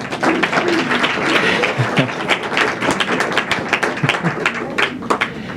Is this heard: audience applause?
yes